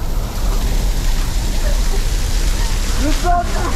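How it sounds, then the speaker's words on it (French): A steady, dense rush of a waterfall pours without pause, loud and close, heard from beneath it, with a faint voice briefly rising near the end. "Nous sommes sous la cascade."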